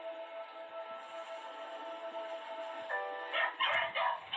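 A few dogs bark in a quick cluster near the end, fairly close, after a steady hum with faint background noise.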